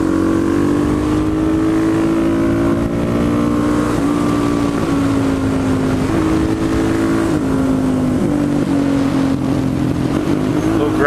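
A supermoto motorcycle riding a curvy road, its engine droning loudly and continuously with pitch dipping and rising through gear changes and throttle shifts, wind noise underneath.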